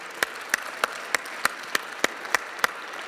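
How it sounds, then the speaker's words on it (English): Applause at the re:publica 2010 blogging awards in a conference hall comes through as sparse, evenly spaced sharp claps, about three per second, fairly faint over a low background hum. "Let's give a big round of applause to Han Han"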